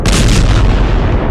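A single loud, deep boom from an improvised can cannon firecracker (boga) fills the moment, a close, heavy blast with a rumbling tail.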